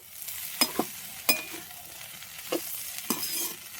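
Potato bhujia with garlic and red chilli cooking in a pan on a clay stove, a quiet steady sizzle broken by four or five sharp scrapes of a spatula stirring against the pan.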